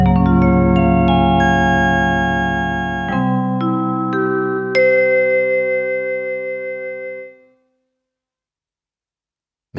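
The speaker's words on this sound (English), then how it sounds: "A vibraphone, a cool sound like this." A vibraphone voice on a Montford MFDP9 digital piano, with soft mallet-struck tones ringing out in a short sequence of notes and chords, then a long metallic decay that fades to silence after about seven seconds.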